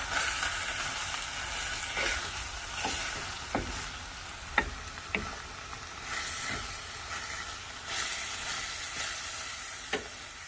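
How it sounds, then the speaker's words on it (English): Ground beef bulgogi sizzles and hisses steadily in a hot pan while a utensil scrapes and taps now and then, the frying loud and close, with no voices. "has evaporated and it starts to sizzle and brown"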